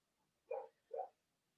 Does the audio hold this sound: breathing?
no